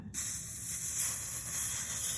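A steady, close hiss of steam sizzles continuously as it is forced into a dent in wood, with a faint high whistle riding on top and no voices.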